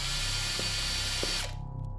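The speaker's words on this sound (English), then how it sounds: "Just a drill, nothing more, nothing less, making perfect holes in walls made of brick and plaster." An electric drill meant for boring through brick and plaster walls runs steadily with a loud, dense mechanical whine, then cuts off abruptly near the end.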